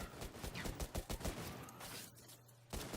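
Logan's Gun in Borderlands 2 fired at a bot: a quick run of sharp, loud gunshots crowds the first second and a half, then the shots thin out, with one last shot near the end.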